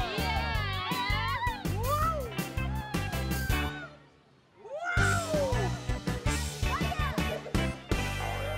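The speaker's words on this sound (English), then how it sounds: "Meow. Oh, a cat." A cartoonish cat meows repeatedly over bright music in a children's show, with a short quiet gap midway before the meows and music return.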